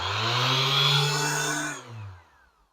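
A Makita 5-inch random orbit sander fitted with 80-grit paper runs steadily on speed setting 5, a close, even motor whir with a sanding hiss, then winds down to a stop near the end.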